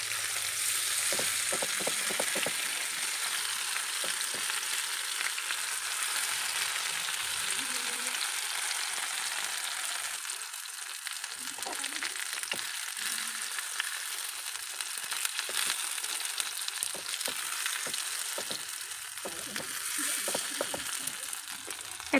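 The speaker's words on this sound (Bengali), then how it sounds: "আস্তে আস্তে এক এক করে ধরে এগুলোকে উল্টে পাল্টে একটু ভেজে নেব" Pieces of cabbage fry in oil as they are turned one by one. A steady, close sizzle runs throughout, broken by occasional soft clicks and scrapes from handling.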